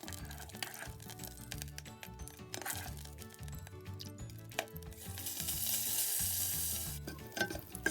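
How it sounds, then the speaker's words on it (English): Beef sizzles and crackles steadily in a hot pan, with the frying swelling louder partway through and scattered pops and stirring noises. "Cook the beef until it turns brown."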